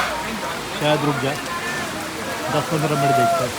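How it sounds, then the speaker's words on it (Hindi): Heavy rain begins falling during a motorcycle ride from Delhi toward Manali, a constant hiss of drops pattering on surfaces heard close by while someone talks over it. "भयंकर बारिश हो गई है शुरू"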